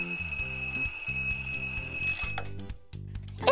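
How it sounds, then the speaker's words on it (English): An alarm clock rings in a bedroom in a cartoon scene, a steady electronic ringing over a backing music loop that cuts out after about two seconds. "The alarm clock will wake you from a long sleep."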